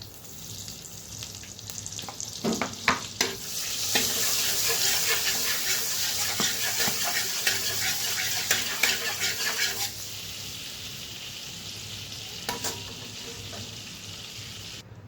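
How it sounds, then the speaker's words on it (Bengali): Butter and refined oil sizzle loudly in a pan for shahi paneer. The close frying hiss swells and holds steady, with spoon clinks and stirring scrapes scattered through it. "এখন দিয়ে দিব বাটার।"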